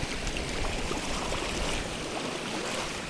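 Steady rushing of flowing stream water, continuous and fairly close, with no pauses or voices.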